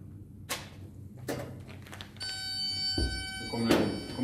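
A fire alarm sounds with a steady high-pitched electronic tone, preceded by a few soft thuds and followed by clatter and movement nearby.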